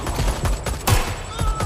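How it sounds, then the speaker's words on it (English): Gunfire in Watch Dogs Legion, a burst of rapid shots with several sharp cracks in quick succession over a dense game soundscape, loud and close, with no talking. "I'm taking fire!"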